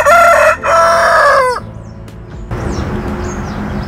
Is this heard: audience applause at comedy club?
no